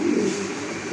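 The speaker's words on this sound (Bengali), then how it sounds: "আরেক জোড়া কবুতর দেখেন, স্ট্রেচার ব্লু স্ট্রেচার কবুতর" Blue stretcher pigeons, a pair offered for sale, coo steadily and close, with a continuous low throaty burble that fills the whole second and has no talk over it.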